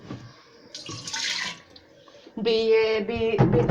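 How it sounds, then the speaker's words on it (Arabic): Filtered water poured into a jar of homemade pickles, two short splashing pours separated by a brief pause, close and fairly loud. "وهنحط شويه ميه من الفلتر، مش ميه من الحنفيه على طول"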